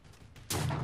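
Minecraft PVP event gunfire: after quiet game ambience, a sudden loud shot bursts in halfway through and rings on to the end.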